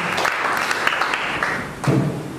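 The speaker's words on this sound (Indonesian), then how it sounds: "Kita beri tepuk tangan buat Yesus Tuhan." Church congregation claps during a sermon, a loose, uneven patter of hands with a few heavier thuds, moderately loud and fairly close, with no speech over it.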